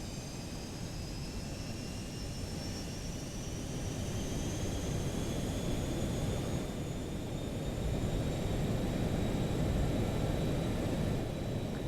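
Boeing 737-200 jet engines spooled to takeoff thrust in the X-Plane 12 simulator, a steady loud roar with a low rumble and rising whine tones, continuous and building slightly over the run.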